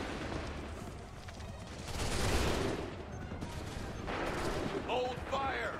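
A musket volley fires on command during the Lexington and Concord mission of an Assassin's Creed game: a dense, crackling burst of many shots about midway, over steady battle ambience, with voices calling out near the end.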